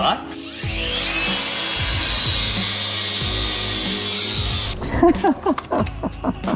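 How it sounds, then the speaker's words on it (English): A power grinder cuts excess metal from the frame of a 125cc drift kart with a loud, continuous high whine for several seconds. It then winds down into clanks and short rasping bursts, and voices speak over it. "we're going to grind away some of the meat, hopefully so that we can get the wheels touching the ground and not the metal"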